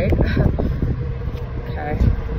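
Outdoor wind buffets the microphone with low rumbling gusts throughout, while a person talks over it at close range.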